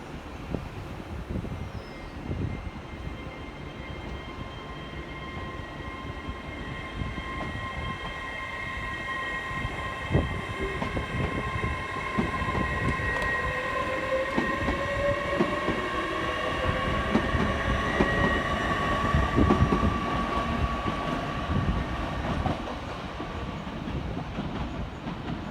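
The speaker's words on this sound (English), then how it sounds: "Next out to depart 6 minutes late is 802-206 with the 1225 Transpennine Express service from Manchester Airport through to Edinburgh Waverley." A Class 802 TransPennine Express train departs Manchester Oxford Road station, a sustained rumble with tonal motor whine rising and drifting for the whole stretch, with no talk.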